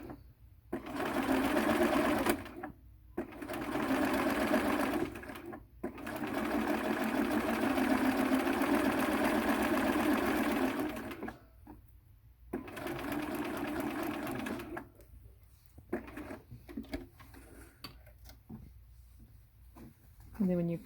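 A sewing machine stitching curved quilt pieces runs in long, steady whirring bursts separated by short pauses, with lighter stop-start stitching near the end and a voice speaking at times.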